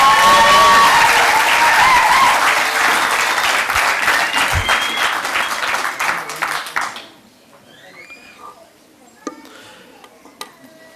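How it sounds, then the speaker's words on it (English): A crowd at a Cape Town eisteddfod showcase claps in a loud, dense burst that thins into scattered individual claps and fades to near quiet after about seven seconds, leaving a few isolated claps and faint voices. "I think they deserve a world-class round of applause."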